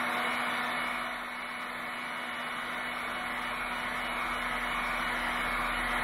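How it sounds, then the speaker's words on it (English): A heat gun runs close by with a steady, even whooshing blower roar and a constant hum, continuous and alone, used to soften strong fibres on an aircraft build. "I'll take the heat gun"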